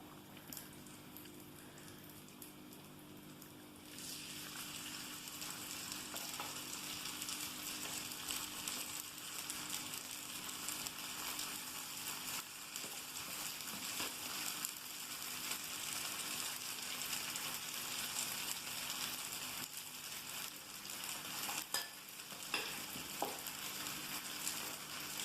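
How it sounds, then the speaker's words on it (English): Vegetable fritters frying in hot oil in a pan, a quiet start giving way to a steady hissing sizzle that continues unbroken at close range, with a few faint clicks and no speech. "Now I'm going to add some fritters in the pan."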